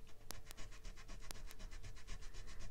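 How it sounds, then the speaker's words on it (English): An eraser rubbing surplus ink off a handheld card gives a steady soft scrubbing texture with a few sharp faint ticks, close and quiet throughout. "A little bit of surplus ink there, which I have my trusty eraser. So just holding the card, I can get rid of that."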